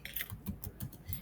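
Fingers type on a computer keyboard while entering data into an Excel spreadsheet, giving a steady run of light, close key clicks with short gaps between them.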